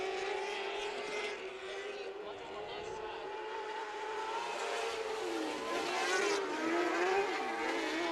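Race cars run a heat race at Kern Raceway, engines droning and whining in layered passes from mid-distance, growing louder toward the end while a commentator talks over them.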